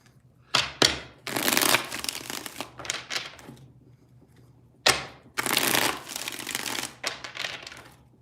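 Tarot cards being shuffled in quick riffling bursts, two separate rounds of about three shuffles each with short pauses between, crisp and close with no talking.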